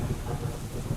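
Steady rain and low rumbling thunder in the Hex of Steel strategy video game, a dense continuous wash with no talk over it.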